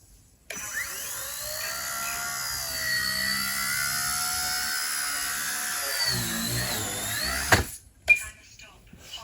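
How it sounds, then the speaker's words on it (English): A remote-controlled model helicopter whines steadily at close range as it attempts inverted flight, its high rotor and motor pitch sweeping up and down, then cutting out near the end before a few brief knocks. "I'm gonna try to invert the heli to see if I can practice some inverted."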